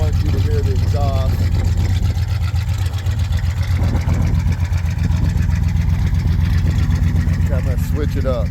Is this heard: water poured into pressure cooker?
no